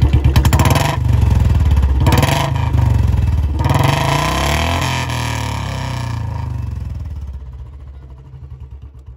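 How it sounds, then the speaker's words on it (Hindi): A Royal Enfield Bullet 350 motorcycle fitted with a loud aftermarket silencer revs hard nearby, a deep thumping, throbbing exhaust that rises and falls through several blips before settling toward a lumpy idle, very loud and close. "भाई आवाज़ बहुत ज़्यादा लाउड है।"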